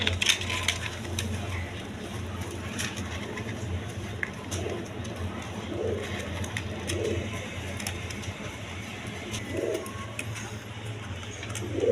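Afsan Girizal pigeons cooing at a Bengali pigeon market, soft repeated coos rising at intervals over a steady background hum, with occasional sharp clinks and faint voices nearby.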